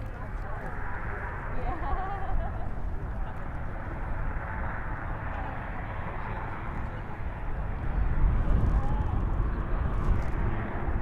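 Marine One presidential helicopter lifting off at the White House, a steady rotor and engine roar that swells louder toward the end, with people talking nearby.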